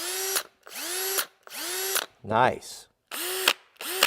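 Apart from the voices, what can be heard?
Milwaukee cordless drill running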